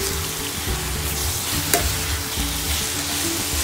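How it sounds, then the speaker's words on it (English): Marinated chicken coated in salt and ginger garlic paste sizzles loudly in a pan while being stirred, with close scraping strokes and a steady frying hiss, one brief clink midway. "will add marinated chicken which has been marinating for the past 30 minutes. So I have marinated this with salt and ginger garlic paste. Add it and mix it well."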